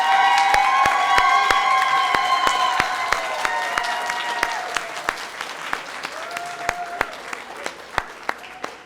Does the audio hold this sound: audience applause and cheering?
yes